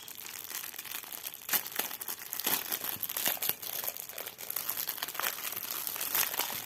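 Tape and plastic wrapping tear and crinkle off a cross-stitch kit package, a busy close run of crackling rips and crumples with several sharper tearing bursts, steady and fairly loud throughout.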